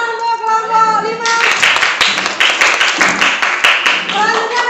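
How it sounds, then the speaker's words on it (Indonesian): A classroom of students claps for a group after a spoken line, a close burst of many hands that continues for several seconds, with some talk mixed in at the start and end. "Tepuk tangan untuk kelompok 5."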